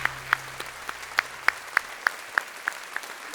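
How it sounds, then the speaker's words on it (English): Applause at a talk on Miami airline hub operations. It comes as sparse, evenly spaced individual claps, a few people striking in loose rhythm, fairly close and clear with no voices over them. "Let's give Mike, even though he's not here, a big round of applause for making this possible."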